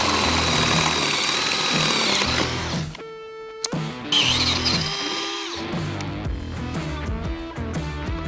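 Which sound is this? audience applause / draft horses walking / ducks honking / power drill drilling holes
power drill drilling holes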